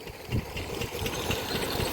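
A hand-cranked diesel engine chugs steadily nearby, its low, rapid knocking pulse continuing without a break and with no voices.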